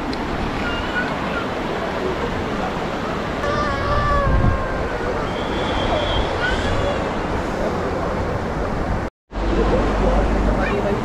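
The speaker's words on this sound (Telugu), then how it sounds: "రివర్ ఇలా ఫ్లో అవుతుంది" A river flowing along the road to Sonamarg in Kashmir, heard as a steady, loud rushing wash of water that fills the whole scene, with faint voices and a brief cut near the end.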